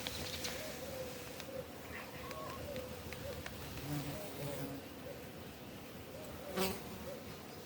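Bees hum in a steady, low drone nearby, with occasional birds chirping and a person speaking quietly underneath.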